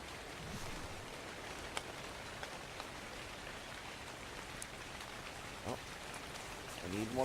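Rain falling in the survival video game Ark, a soft, steady patter with occasional sharper drops, quiet and continuous across the whole stretch with no one speaking.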